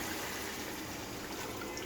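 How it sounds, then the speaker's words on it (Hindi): Water poured from a one-litre jug into a cooking pot of browned beef and masala for nihari, a steady, soft trickling and splashing pour lasting the whole moment with no talk over it. "बाकी पानी डालती हूँ"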